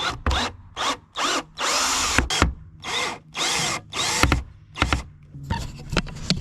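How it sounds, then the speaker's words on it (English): A power drill whirs in repeated short bursts, removing roof rack screws on a Tahoe, starting and stopping several times, close and loud, with brief pauses between runs. "I'm trying to take those 2 screws out"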